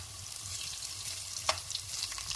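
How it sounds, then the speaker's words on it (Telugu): Garlic sizzling in hot oil in a pan, a soft continuous frying hiss with one sharp utensil tap midway and a few lighter scrapes. "వెల్లుల్లి వేసుకుందాం. అవి కొంచెం మంచిగా ఫ్రై కావాలి."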